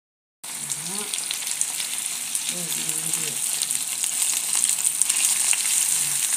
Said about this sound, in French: On va les laisser griller d'abord et ensuite incorporer les asperges.